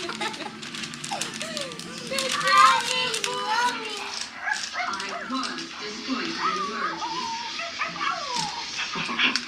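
A young puppy yips, whimpers and barks over and over at close range, its sounds mixed with people talking excitedly nearby during a Christmas gift opening.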